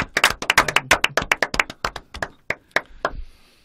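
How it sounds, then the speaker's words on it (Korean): Hand clapping in a radio studio, a few people clapping close to the microphone in a quick burst that thins out into scattered single claps before stopping. "박수 한번 치고 가죠 그러면."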